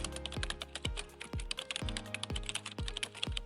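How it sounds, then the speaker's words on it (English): Keys clack on a computer keyboard as a search term is typed, a steady run of close, crisp keystrokes with a few heavier thumps, with no talking. "simply click on the indicators button and type Trend Speed Analyzer into the search bar"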